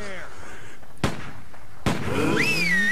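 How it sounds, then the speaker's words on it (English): Gunfire in the video game Stubbs the Zombie gives two sharp, separate shots about a second apart, with a voice talking throughout and game music or effects underneath. "they're shooting"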